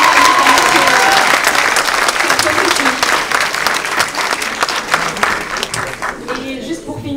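An audience at the Harakat award ceremony applauds loudly and steadily, a dense wash of clapping that tapers off near the end.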